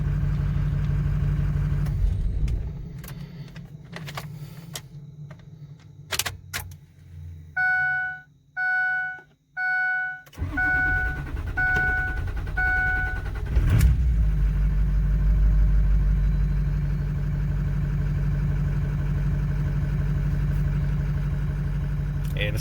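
A hot Ford 6.0 Powerstroke diesel pickup is shut off after a short drive, then cranks with a few chiming dash tones and fires, settling into a steady, moderately loud idle rumble that runs to the end.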